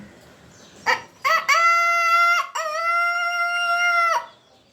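A person imitates a rooster's crow, a loud, close cock-a-doodle-doo with a couple of short lead-in notes and a long held final note.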